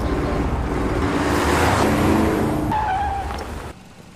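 A car engine roars hard as it speeds off in a film chase, with tire noise swelling to a peak and then fading into the distance as other film sounds take over.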